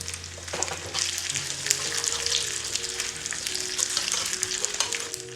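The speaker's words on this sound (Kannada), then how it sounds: "6ರಿಂದ 8 ಗೋಡಂಬಿ ಕಟ್ ಮಾಡಿ ಹಾಕಿ ಹುರಿಯಿರಿ" Cashews fry in a tempering of urad dal, green chilli and curry leaves for Udupi-style avalakki, giving a steady close sizzle with occasional stirring scrapes throughout, no talking.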